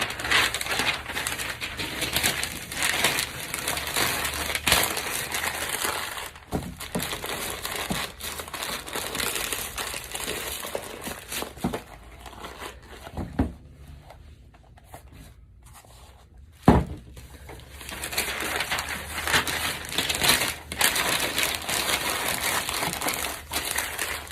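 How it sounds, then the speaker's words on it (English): Sheets of paper are crumpled and stuffed into a pair of shoes before packaging, giving a close, continuous crinkling and crushing with scattered sharp rustles and taps, pausing briefly midway before resuming. "So I like to always stuff my shoes with paper."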